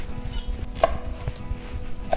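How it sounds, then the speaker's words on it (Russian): A knife finely chopping parsley on a board for a yogurt and garlic sauce, a few crisp close taps scattered over about two seconds with no talking. "Так, значит, мелко рубим немножко петрушки."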